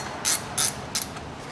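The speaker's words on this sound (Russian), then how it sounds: "Также откручиваем передний кардан." A ratchet loosens the 14 mm nuts on the front driveshaft bolts of a 2007 Ford Ranger 2.5 turbo during a clutch replacement. Three short, crisp bursts of ratcheting clicks are evenly spaced over a low, steady background.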